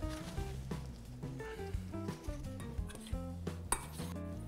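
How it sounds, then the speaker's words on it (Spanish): A small spoon stirring mushroom ceviche in lime juice makes faint, quiet clinks and soft wet scrapes against a dish, set beneath louder background music. "vamos a revolver un poco. Con ayuda de una cucharita"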